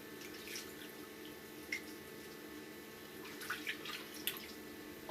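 Tap water runs steadily into a sink while a fabric packer is rinsed and washed, with a few soft drips and splashes over the continuous flow and no talking.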